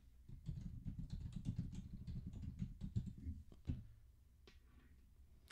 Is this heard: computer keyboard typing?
yes